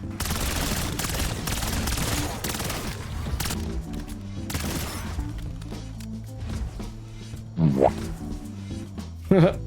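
Rapid pistol gunfire from the Coda 9 in Black Ops 7 Zombies crackles almost nonstop, dense volleys layered with game effects and a couple of croaking zombie growls near the end.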